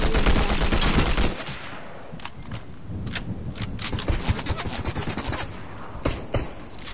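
Rapid gunfire from a video game weapon, a loud dense burst at the start followed by scattered single shots and short volleys, with no voices.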